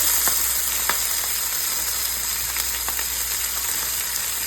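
Onion and green pepper fry in a pan with a steady, even sizzle throughout, broken by a few faint clicks of a utensil and no talking.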